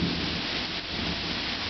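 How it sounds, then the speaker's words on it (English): Heavy rain pours steadily during a rainstorm in Charlotte while a low rumble of thunder rolls beneath it, a dense continuous roar with no voices. "we have a lot of thunder. Okay, it just went off as I said that."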